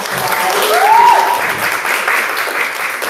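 A crowd at a student association meeting breaks into steady, dense applause close by, with a brief voice rising above the clapping.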